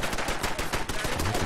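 Rapid bursts of gunfire from a Fallout 4 firefight crackle close and loud, a fast stuttering string of shots with a few sharper cracks, no voices over it.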